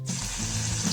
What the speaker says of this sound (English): 1 tablespoon of ginger garlic paste to the hot oil. Stir quickly and cook for 30 seconds